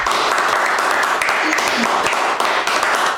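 A church congregation applauds with steady, dense clapping that fills the space, loud and close, with voices mixed into the applause.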